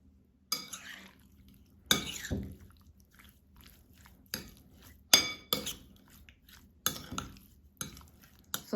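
A utensil mixes salmon seasoning in a bowl, giving about eight sharp clinks against the dish at irregular intervals, close and clear, with quiet stirring between strikes.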